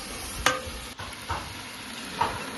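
Vegetables boiling in a pan with tomato and rock salt for pulao give a soft steady bubbling simmer, broken by three brief scrapes of a spoon stirring, with no voices.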